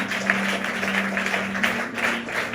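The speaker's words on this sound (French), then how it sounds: "on donne une ovation, l'acclamation au Seigneur Jésus" Church congregation applauding and cheering for Jesus at a French-language deliverance service, with moderate, continuous clapping blended with crowd noise over a steady low musical drone.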